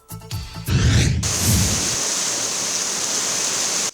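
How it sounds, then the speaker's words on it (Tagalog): Floodwater rushes hard down a creek at sitio Lourdes, Barangay Hagubyaw, after heavy afternoon rain, a loud, steady roar that holds without a break after a brief, uneven start. "Ingon ani ka kusog sab ang bulog sa tubig sa creek sa may sitio Lourdes, Barangay Hagubyaw."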